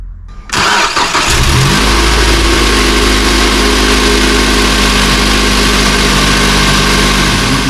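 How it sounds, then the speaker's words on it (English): Mazda 3 BL engine cranks and fires up after an oil change, then settles into a loud, steady close-up idle. "start the vehicle and let it idle for 10 to 15 minutes"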